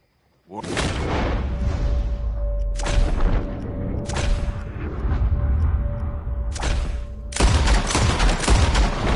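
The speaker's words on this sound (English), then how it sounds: "As soon as you see him, start shooting." Gunfire in a Red Dead Redemption 2 shooting contest: loud revolver shots ring out in a fast series with booming reports and echoing tails, several close bursts over about nine seconds.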